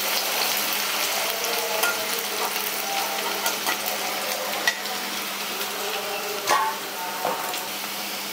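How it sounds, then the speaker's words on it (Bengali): Salted sliced onions fry in hot oil for birista with a continuous close sizzle, gently stirred with occasional scraping clicks and a few louder knocks. "পেঁয়াজটা হালকা হাতে আমি একটু নাড়াচাড়া করে বেরেস্তা বানিয়ে নিচ্ছি"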